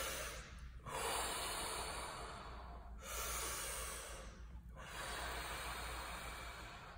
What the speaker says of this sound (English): we're gonna take two big deep breaths in and out.